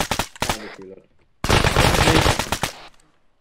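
Gunfire in Arma 3 during a navy rescue mission, several close, loud shots at the start, then a sustained burst of rapid automatic fire that fades out with a few trailing cracks.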